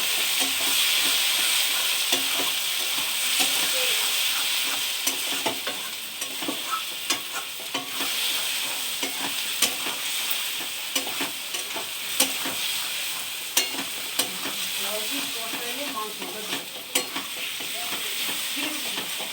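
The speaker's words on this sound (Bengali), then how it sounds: "তারপর ধনার গুঁড়া, ভালো করে মিক্স করবো।" Coriander powder stirred into masala frying in a pan, with a steady sizzle and hiss under repeated scraping strokes of a spoon, close and continuous.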